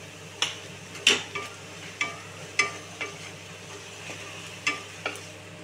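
Sautéed onions frying in a pan for a sprouted moth bean dal dish, with about eight sharp, separate scraping strokes of a spoon over a soft, low sizzle.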